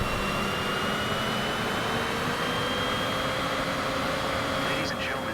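Cessna Citation CJ4 jet engines roar steadily on takeoff in Flight Simulator 2024, a dense, even whine and rush holding throughout at constant loudness, with a radio voice faintly underneath.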